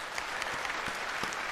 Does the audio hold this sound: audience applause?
yes